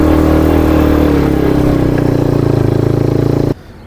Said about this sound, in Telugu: బగ్గి రైడ్ చేస్తున్నాను ఇక్కడ